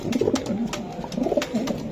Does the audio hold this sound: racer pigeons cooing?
yes